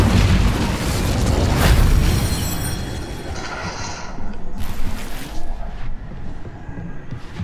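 An Incendio fire spell goes off in a Harry Potter video game: a loud, close, booming blast swells over the first two seconds, then breaks into crackling, popping bursts that fade into a low rumble, with no voices.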